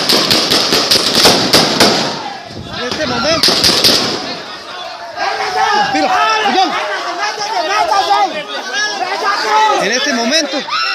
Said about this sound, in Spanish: la policía hizo muchos disparos, acción que quedó registrada en el audio de un video que fue grabado en oculto